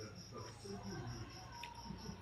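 Crickets chirp steadily at a faint level under a low background hum and murmur, a continuous high trill without clear speech.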